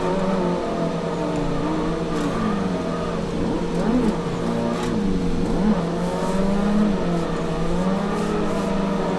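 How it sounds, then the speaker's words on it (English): A drifting car in Assetto Corsa, its engine droning steadily with pitch that rises and dips as the throttle is eased off and reapplied, sustained and close with no pauses. "I'm just showing you an example of how you can just let the car drift without, you don't always have to be on the throttle"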